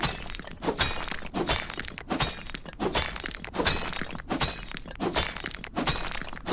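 A pickaxe strikes stone in the video game Outlaws of the Old West, a steady series of about ten sharp, cracking impacts at an even rhythm, loud and close.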